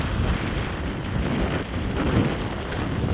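Strong wind and rolling sea waves batter a storm-damaged coastline after a cyclone, a continuous loud roar of surf and gusts buffeting the microphone, with no voices.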